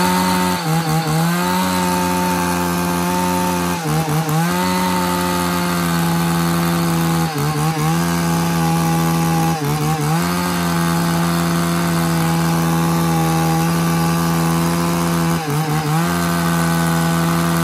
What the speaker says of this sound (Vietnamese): Rồi test nổ bác nghe tiếng máy này.